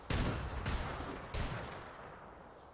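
Three loud 30-30 Repeater sniper rifle shots in Apex Legends, evenly spaced with booming reports and decaying tails, no voices.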